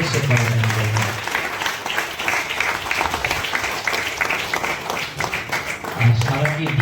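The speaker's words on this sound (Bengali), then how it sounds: "সেই সঙ্গে জোরসে করতালি দেব।" A congregation at a night-long church prayer meeting claps loudly and continuously, a thick sustained wash of applause mixed with voices and some low musical tones at the start and end.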